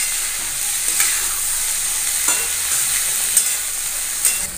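Potato and beans sabzi stirred and fried in a pan, a steady sizzling hiss under occasional scraping strokes of the spoon, close and clear with no talking.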